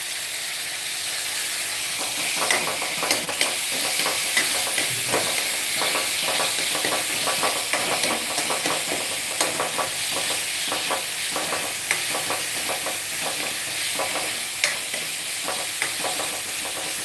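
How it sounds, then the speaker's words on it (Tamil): Tomatoes sautéing in a pan keep up a loud, continuous sizzle, with a spoon scraping and stirring through them in steady strokes, and no talking. "நல்லா வதக்கி விட்ருவோம்."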